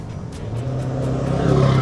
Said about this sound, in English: another fast truck coming behind me